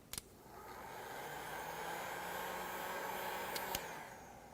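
A dryer blows quietly and steadily, quickly drying acrylic paint on canvas, with a soft hum and a few faint clicks at the start and near the end.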